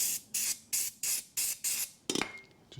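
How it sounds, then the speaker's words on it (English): Brake cleaner sprayed from an aerosol can during a front brake pad change on a 2004 Kia Rio 1.3 petrol: six short, sharp hissing bursts in a steady rhythm, then a longer, rougher spray with a clatter near the end, close and clear with no talk. "I've got a little bit of brake cleaner left"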